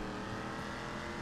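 Engine of a Ruiner car in GTA 5, a steady dense roar of a revving motor with road noise, constant and close with no pauses.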